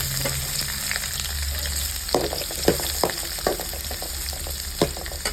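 Onions fry in a pan with cumin and cashews for palak mushroom, a loud continuous sizzle broken by a series of spatula scrapes and knocks in the second half, no speech.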